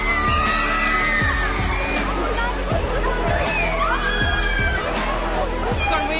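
A lively crowd at a celebrity appearance, heard as a busy wash of cheering, whoops and shouts over a steady thumping beat, with voices talking throughout.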